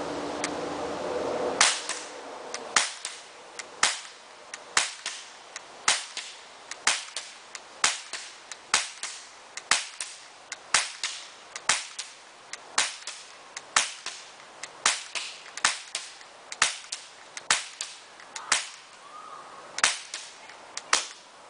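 A Beretta Elite 2 CO2 BB repeater pistol fires a long string of sharp, snappy pops, about two dozen evenly spaced shots roughly a second apart, close and crisp with no talking.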